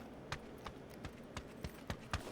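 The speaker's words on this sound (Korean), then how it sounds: "아 발소리 듣고" Footsteps sound in a PUBG match: a series of sharp, evenly spaced thuds, about seven in under three seconds, faint and somewhat distant.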